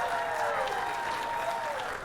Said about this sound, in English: how about a nice round of applause for our 2 finalists?